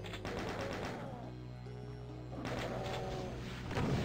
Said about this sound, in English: we got chain gunners all over the place now.